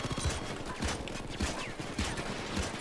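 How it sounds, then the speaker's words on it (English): Automated sentry guns fire in Payday 2 during a biker club heist, steady bursts of quick mechanical gunfire repeating in a rough rhythm, fairly faint and unaccompanied by talk. "Going ahead and get my sentry guns going again."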